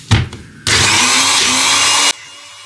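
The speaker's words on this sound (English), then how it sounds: "So I'm using my Mr. Magic blender." Mr. Magic kitchen blender whirring through an onion hair-mask mix: a short burst of clatter and motor start, then a loud, steady high-pitched whine for about a second and a half before it cuts off abruptly.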